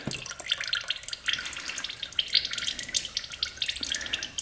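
Gasoline drains from a flooded ATV carburetor, pattering and trickling in a continuous, close stream of small drips and splashes with no voices.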